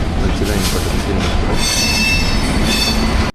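A train pulls into platform 10 alongside a second train, wheels squealing and rumbling loudly close by in a continuous roar with high metallic screeches.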